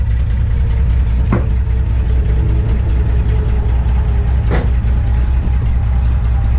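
A 1950 Chevrolet engine idles steadily and loudly up close, a low throbbing rumble with a couple of brief clicks over it.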